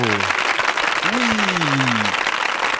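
Studio audience applause, a steady dense patter of clapping, with voices speaking briefly over it.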